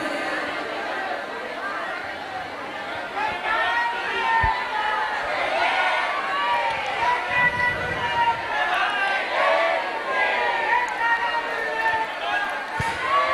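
A crowd of devotees gathers for temple darshan at the Amrut Siddhi Darshan Mahotsav in Sanganer, Jaipur, producing a continuous murmur of overlapping voices and shuffling movement, with a few sharp knocks.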